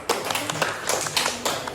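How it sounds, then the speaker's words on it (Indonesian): Classmates in a senior high school classroom clap for a student, a dense, steady patter of many hands at close range, continuing evenly without voices. "tepuk tangan untuk Rukiat"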